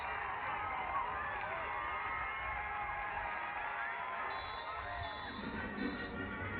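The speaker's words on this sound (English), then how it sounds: "Something for the Hoyas to cheer about, Cart, as they cut into this Virginia lead." Basketball arena crowd at an NCAA quarterfinal between Virginia and Georgetown, a dense roar of cheering and whoops that holds steady throughout, with a few higher shouts rising over the wash of noise.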